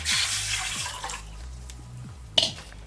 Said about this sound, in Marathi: हे 1 लिटर पाणी आहे, तर हे 1 लिटर पाणी याच्यामध्ये आपण आता उकळायला ओतायचं।